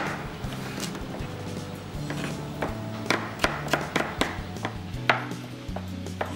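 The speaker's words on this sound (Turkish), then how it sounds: "Havucumuzu da aynı şekilde uzunlamasına öncelikle doğruyoruz." Knife slicing a carrot lengthwise on a cutting board, heard as a series of sharp, close taps and chops at an irregular rhythm, steady and fairly loud with no talking.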